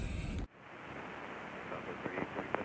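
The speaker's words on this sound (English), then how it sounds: "Yeah, it's very windy" Strong wind blowing across an airfield, a broad steady rush close to the microphone, following a brief loud burst at the very start, with a few faint knocks near the end.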